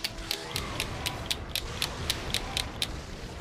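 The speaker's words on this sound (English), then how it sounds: "that's the sound of your finger slipping off" Sharp plastic clicks from a finger slipping off a PS3 DualShock L2 trigger repeat in a steady rhythm, about three per second, close and crisp over a faint background hiss.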